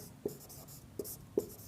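A pen writes on paper, giving three soft, distinct scratching strokes spaced unevenly, close and faint against a quiet background with no talk.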